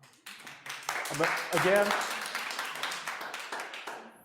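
An audience at a Valencia County commission meeting breaks into a burst of scattered clapping that swells and lingers while a person keeps talking over it.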